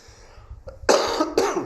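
Two sharp coughs in quick succession, close and fairly loud, after a brief quiet throat sound.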